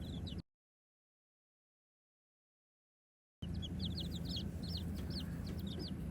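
Backyard chickens cluck and squabble over a small worm in a series of short, sharp calls, clustered and fairly close, with a stretch of silence before the racket resumes.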